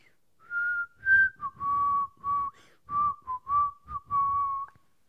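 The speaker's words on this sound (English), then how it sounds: "I feel like whistling Bad News Bears." Someone whistles the Bad News Bears tune, a clear, close melody in a series of short and sustained notes with brief pauses between phrases, heard alone without talk.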